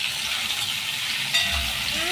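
Potatoes sizzle steadily in hot oil after salt goes in, with a brief scrape and clatter of stirring partway through, continuous and close with no voices.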